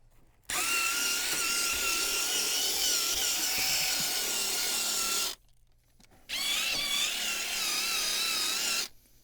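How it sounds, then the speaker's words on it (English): A cordless drill spins a scrubbing brush across van carpet to lift dog hair, a loud whirring grind running for about five seconds, a short pause, then another burst of similar length. "Then sometimes I'll run across it with my handy drill here."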